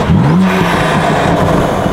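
A loud BMW drift car, an E36-style build with an RK tune, burbles and rumbles steadily up close with a low, uneven engine note, with no talking over it.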